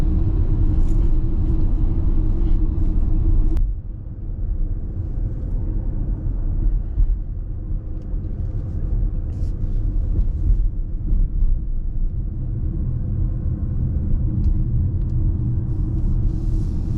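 A 2024 Ford Mustang Mach-E electric drivetrain whines steadily while driving, under a heavy, continuous low road rumble and cabin hum, with a brief dip in level early on and no talking.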